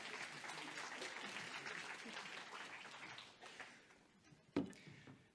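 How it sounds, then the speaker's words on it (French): Faint applause from an audience, a dense patter of clapping that slowly fades, with a single sharper clap near the end. "On peut les applaudir, s'il vous plaît."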